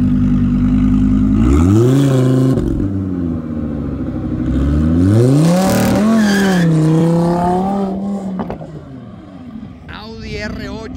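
An Audi R8 V10 engine revs hard, rising and falling in several loud, close sweeps before settling to a throaty idle, with a voice talking over part of it.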